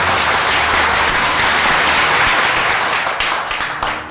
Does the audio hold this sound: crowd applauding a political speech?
yes